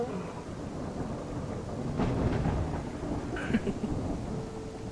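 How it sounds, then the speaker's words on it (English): Rain falls steadily in the Primal Earth video game while thunder rumbles at moderate distance, with a couple of swelling rolls midway and faint sounds scattered over the downpour. "This rain was amazing."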